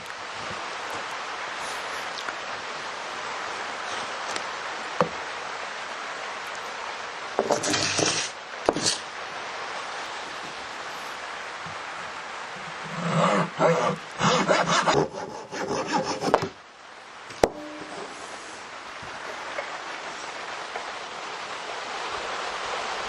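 Wood being cut with a hand fret saw in a workshop, short bursts of rasping strokes in a few separated runs, close and clear, over a steady background hiss.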